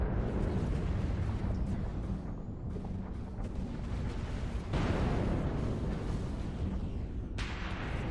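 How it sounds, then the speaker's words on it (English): Missiles launching during a space battle in Stellaris, a continuous rumbling roar of booming blasts with sharper surges partway through, loud and dense with no voices. "Oh, look at those missiles firing."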